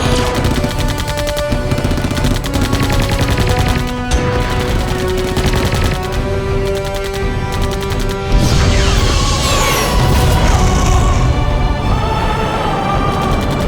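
Gunfire in a sci-fi comedy movie: a sustained, very loud barrage of rapid automatic shots layered over music and crashing effects, continuing throughout without letup.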